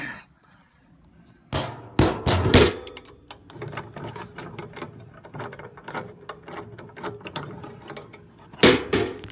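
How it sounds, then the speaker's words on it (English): Mechanical clicking and ratcheting from a screw being backed out of an Atwood RV water heater while its gas valve is replaced, with a few sharp knocks near the start and the end and a steady run of small clicks between them. "Simply continue to take this screw out."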